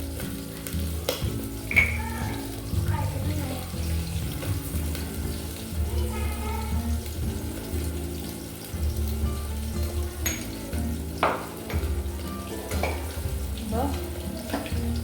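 Sardine curry with buttermilk simmering in a pan on the stove, a soft steady bubbling sizzle with occasional light clinks of a utensil, close and fairly quiet.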